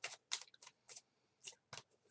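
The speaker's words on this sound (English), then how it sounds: "Shuffling again for you." Tarot cards are shuffled in several short, crisp bursts of riffling and flicking, close and fairly quiet, separated by brief pauses.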